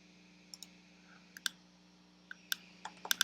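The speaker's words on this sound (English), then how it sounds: "And I'll type it up here." Typing on a computer keyboard: a few quiet, sparse key clicks at first, then a quicker cluster near the end, close by over a faint steady hum, with no speech.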